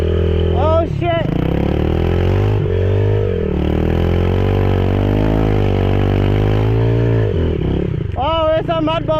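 Pit bike engine revving hard and labouring through a dry mud bog, loud and continuous throughout, with a rider shouting over it at the start and end.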